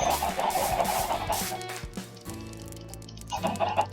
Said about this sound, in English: There they are. There are all of our chickens all around us.